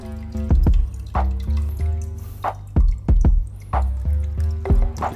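Water drips and splashes steadily out of a freshly pierced coconut, a close, fairly loud run of irregular drops with liquid gurgling and trickling between them, heard alone without any voices.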